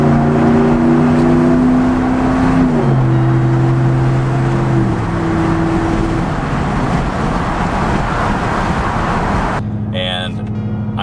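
A 2019 RAM 1500 with the 5.7L HEMI V8 and an aftermarket Flowmaster exhaust pulls hard on the highway, engine tone climbing through gears with shifts, loud and close, road noise underneath.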